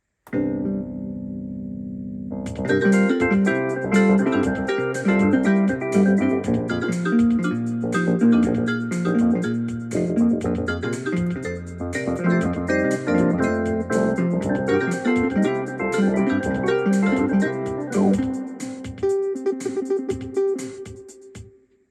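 A recorded sequence plays back on a Technics AX7 keyboard: a short held chord opens, then a full arrangement of steady rhythmic notes, chords and bass runs continuously before thinning and fading out at the end.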